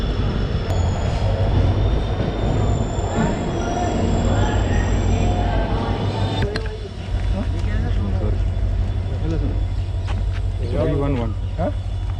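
A train rumbles steadily with metallic squeals as it rolls into a station, while voices chatter nearby throughout.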